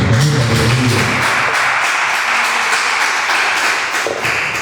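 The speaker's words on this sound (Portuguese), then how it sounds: "Vamos aplaudir a Jesus mais uma vez, irmãos." A church congregation applauding during a worship service, steady sustained clapping from many hands that fills the room evenly and continues without a break.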